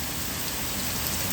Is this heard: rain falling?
yes